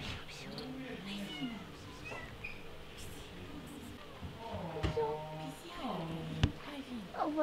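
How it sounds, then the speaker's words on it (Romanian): A cat meows several times at a distance, found on a shoot or set, with people chatting around it and a few sharp clicks mixed in. "Ați găsit o pisică aici?"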